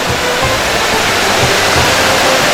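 Spring water at Kadı Gölü in Kemaliye, Erzincan, flows constantly in a loud, dense, unbroken rush close by, with no voices.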